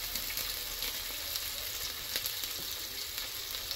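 Onions frying in a pan for Filipino chicken afritada give off a steady, dense sizzle that holds evenly throughout, close and moderately loud, with no voices.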